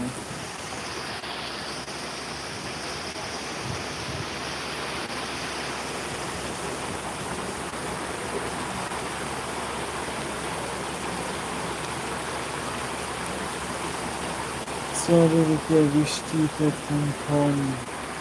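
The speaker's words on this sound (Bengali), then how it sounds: "আজকে অনেক বৃষ্টি" Steady, dense wash of heavy rain roaring throughout, with a few voices breaking in briefly near the end.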